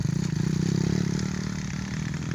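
Modified motorcycle built for hauling rice, riding out into a muddy paddy field near Cikarang; a steady, close engine drone with a pulsing low throb and some clatter, running continuously without speech.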